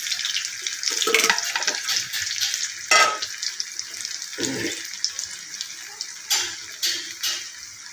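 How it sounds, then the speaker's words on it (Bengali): Potato pieces frying in hot oil for a Bengali cucumber dhoka dish, a steady close sizzle and crackle with occasional stirring scrapes and louder spits. "আলুগুলো ভেজে নিচ্ছি"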